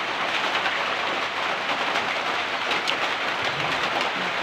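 Heavy rain pours down steadily in a dense, unbroken hiss with no pauses and no voices.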